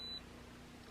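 A short, faint electronic beep from an automatic rotating hair curler sounds once at the very start, then stops, leaving only quiet room tone.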